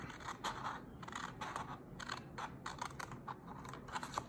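Scissors cutting card for a swing box card, a steady run of crisp snipping clicks at a brisk, slightly uneven rhythm, close and fairly quiet, with no voice.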